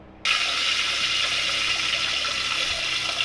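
Soaked tamarind extract pours into a pan of fish curry, starting abruptly as a steady, close, hissing gush of liquid that continues without a break.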